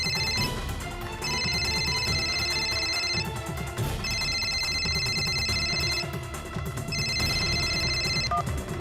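A home telephone rings after a number is dialed. The repeating electronic ring pattern comes in regular bursts over steady background music, with no talking.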